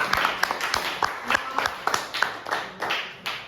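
Schoolboys at St Francis of Assisi Boys' School clap in their classroom, a run of sharp, fairly regular claps from several hands close by, loud and rhythmic for a few seconds.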